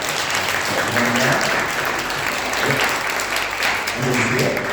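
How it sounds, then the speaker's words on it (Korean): A church congregation applauds to welcome visitors, a loud, continuous roll of clapping with voices chattering and calling out underneath. "우리 큰 박수로 환영합니다"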